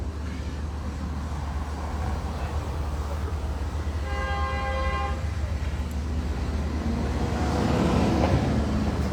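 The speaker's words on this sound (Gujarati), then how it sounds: "હમણાં બસ વાળો હોર્ન મારી મારીને થાકી જાય" A bus horn sounds in a few short repeated toots partway through, heard over a steady, loud street traffic rumble with engine noise underneath.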